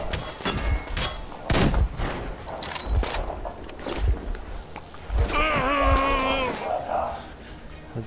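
Sniper gunfire in a Metro Exodus firefight, several sharp cracking shots spaced irregularly, with bursts of other combat noise and a voice speaking in between.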